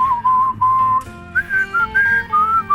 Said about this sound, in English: it's got a brilliant whistling refrain.